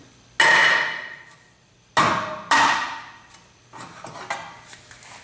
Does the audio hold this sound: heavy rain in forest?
no